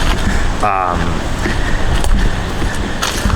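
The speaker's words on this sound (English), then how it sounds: "the stupid wind is blowing today" Strong outdoor wind gusts and buffets the microphone in a continuous loud roar, with a voice briefly audible beneath it.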